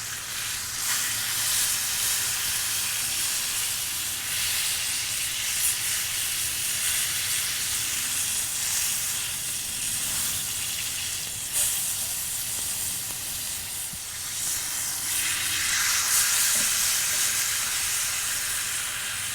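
A thick tomahawk ribeye steak, almost five pounds, sears over high heat on a Weber grill with a steady, loud hiss and sizzle. The sound runs unbroken for the whole stretch with no talking.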